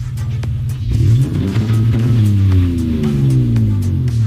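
A BMW E46 widebody drift car with a flame tune and chip upgrade revs its engine loudly up close, with the pitch climbing and falling in several swells and a crackling exhaust over a deep, steady rumble.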